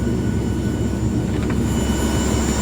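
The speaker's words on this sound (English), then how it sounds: "And you can hear the engine outside" Cirrus SF-50 Vision Jet engine running in the X-Plane flight simulator, a steady, loud, droning jet roar with a constant whine, unchanging for the whole stretch and heard as if from outside the aircraft.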